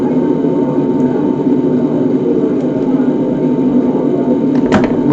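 Boeing 747 jet engines roar steadily during a Qantas takeoff roll out of Cairns, loud and constant from inside the cockpit, with a brief rattle near the end.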